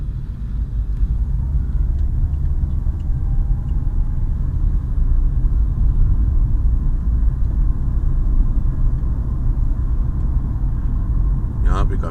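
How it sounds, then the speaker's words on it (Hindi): Heavy road traffic on Multan Road, lined with industries, forms a loud, continuous low rumble of passing cars and trucks heard close by, with no breaks. "यहाँ पे काफ़ी ट्रैफिक है, क्योंकि ये मुल्तान रोड है"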